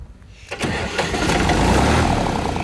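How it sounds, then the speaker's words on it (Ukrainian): A tractor engine cranks and catches after half a second of near silence, then settles into a loud, steady, close running rumble with no talk over it. "Давайте подивитися, як заводиться"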